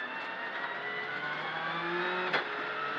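A rally car engine rev flares briefly during a downshift, its loud in-cabin drone holding steady before a sharp blip with falling pitch, heard close and alone without talking.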